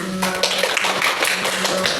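A classroom of students claps briefly for a classmate: a short, dense patter of hand claps over a low steady hum, fairly close and moderately loud.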